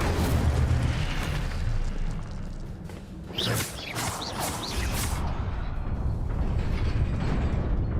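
Incendio fire spell cast in the video game Hogwarts Legacy, a loud fiery whooshing burst with crackling over constant game background noise.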